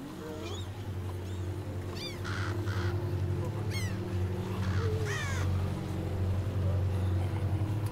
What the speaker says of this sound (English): throw a rock at them birds.